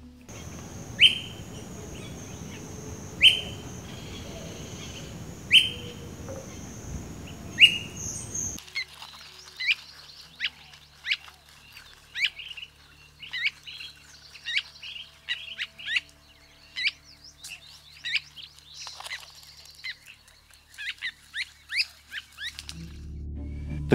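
Calls of Myiarchus flycatchers, among them Nutting's flycatcher, recorded in Costa Rica: repeated short, sharp whistled notes. A few evenly spaced calls sound over a low rumble at first, then a quieter stretch brings quicker, varied call notes.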